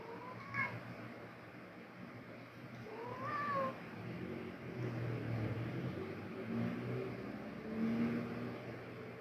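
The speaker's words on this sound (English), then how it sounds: "I'm talking to the cat." A house cat meows a few times, short rising cries spaced several seconds apart, heard faintly over a low rumbling background that sounds like a passing car or engine.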